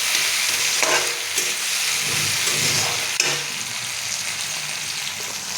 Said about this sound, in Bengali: আমি এখানে টমেটোটা ভেজে নিচ্ছি লাল লাল করে।